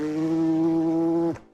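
A beatboxer's mouth imitates a zipper: one steady, buzzy tone held for over a second, then cut off sharply, with no talking.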